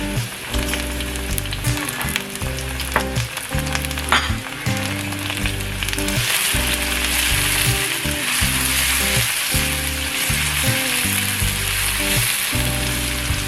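Chopped ginger, garlic and chili sizzle and fry in a pan for Thai basil fried rice with chicken, a loud continuous crackle broken by occasional stirring clatter and a rhythmic repeated tapping.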